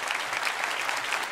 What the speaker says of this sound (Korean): 박수로 우리 공연하신 데 감사합니다.